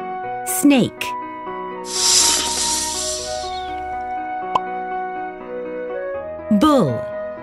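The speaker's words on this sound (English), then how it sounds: "Snake, snake," A cartoon snake's hiss sounds in an animal-sounds learning game for kids at the zoo: one steady breathy hiss of about two seconds, set between louder voiced animal calls.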